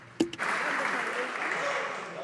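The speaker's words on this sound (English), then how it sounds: "Members being a little bit premature in their applause." A sharp thump opens, then applause breaks out across the House of Commons chamber during Question Period, steady and sustained clapping from many members, with some voices mixed in.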